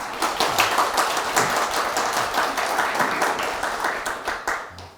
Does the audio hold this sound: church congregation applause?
yes